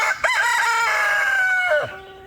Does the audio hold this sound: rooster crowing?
yes